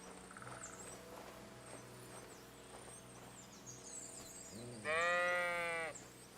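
A sheep bleats loudly near the end in the video game Kingdom Come: Deliverance II, a wavering nasal cry, over a quiet ambient backdrop with faint chirping insects.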